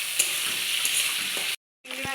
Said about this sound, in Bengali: এবার চিংড়ি মাছটাকে আমি ভেজে নেব।